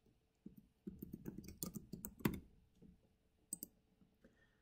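A computer mouse double-clicks and a keyboard clatters in a quick burst of typing, close and dry, with sparse isolated clicks afterward.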